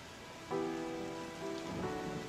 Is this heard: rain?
yes